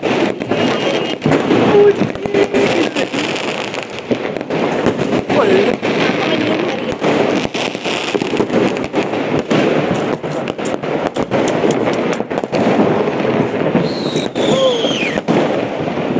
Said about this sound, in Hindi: पटाखे से सुंदर सुंदर जगह